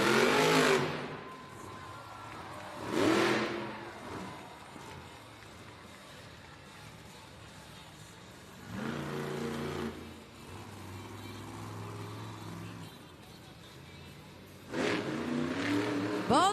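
A monster truck on BKT tires at a Monster Jam arena event in Baltimore, its engine giving several loud revving bursts separated by quieter idling gaps, with arena echo behind.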